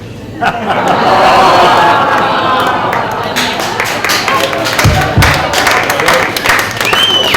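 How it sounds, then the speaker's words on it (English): Loud, full audience applause and cheering for a comedian at a red carpet launch show, with sustained dense clapping and crowd chatter throughout and a voice speaking over it. "keep that applause going for our next comedian"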